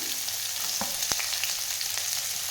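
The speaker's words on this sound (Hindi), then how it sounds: "ये मैंने 2 प्याज को एकदम छोटे छोटे साइज में कट कर लिया था। अब इनको डालकर थोड़ी देर में भूनूंगी।" Finely chopped onions fry in a pan for biryani, giving a steady, even sizzle throughout with a few faint scrapes and clicks over it.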